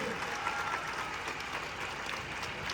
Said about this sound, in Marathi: एकदा जोरदार टाळ्या होत्या विचार मंचावर बसलेल्या सर्व मान्यवरांसाठी.